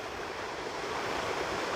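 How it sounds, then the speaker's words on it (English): A small mountain waterfall and stream near Mt Shasta on the Pacific Crest Trail give a steady, close rushing hiss of falling water, alone and unbroken. "What a beautiful little waterfall and"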